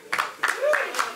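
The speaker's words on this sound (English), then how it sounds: "So he's clapping" Hand claps at a film premiere show, about four distinct claps in a slow, uneven rhythm, close and fairly clear, with a voice speaking between and over them.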